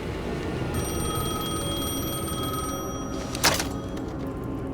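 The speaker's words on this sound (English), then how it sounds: "My phone was ringing again." Phone ringing in the video game Alan Wake 2, a steady electronic ring made of sustained bell-like tones over a dense, moody game ambience, with a brief bright burst near the end.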